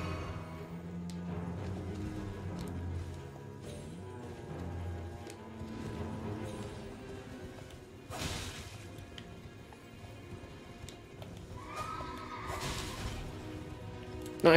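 A horse whinnies in the video game Elden Ring amid battle effects, with a couple of sharp neighing bursts rising over a busy bed of game music, whooshes and crashing hits.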